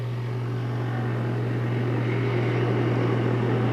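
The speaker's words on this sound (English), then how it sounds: "Develop a lot of movement out of these 5 horsepower Briggs & Stratton's motors." Karts powered by 5 horsepower Briggs & Stratton engines race at Delta Speedway, a steady droning engine roar with a constant low hum throughout, no commentary audible.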